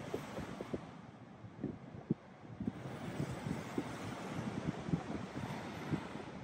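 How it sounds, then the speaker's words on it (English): Steady wind rushing past the microphone with low buffeting gusts on a beach on Oahu's North Shore, Hawaii, surf faintly churning underneath, no voices. "Super windy, but it's nice."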